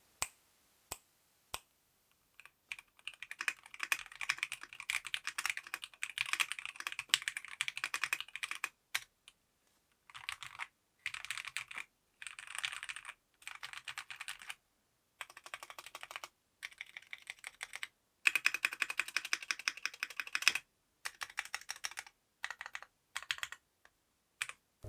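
A stock mechanical keyboard with pre-lubed KL-MX Jellyfish switches is typed on in fast bursts of crisp, clacky keystrokes, separated by brief pauses, close-up and alone in a quiet room.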